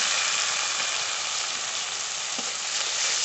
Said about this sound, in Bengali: পেঁয়াজ আর টমেটো প্রায় অর্ধেকের বেশি ভাজা হয়ে গেছে।